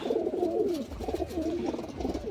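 Pigeons cooing in a loft as its door is opened, several soft overlapping coos close by in a continuous murmur, with a low thud of the door underneath.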